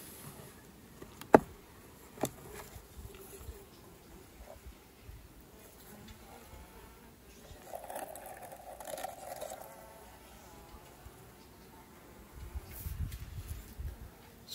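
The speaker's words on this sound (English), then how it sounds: "There's a few bees in the feeder," Bees buzz around a small mini nuc hive and feeder in a backyard, a faint, wavering hum with scattered close passes and light handling noises, no talk.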